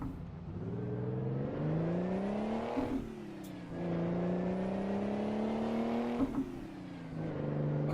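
The Detroit engine of a Mack R truck in American Truck Simulator, revving up through a gear with a rising drone, dropping at a shift, then climbing again, close and steady with no talk.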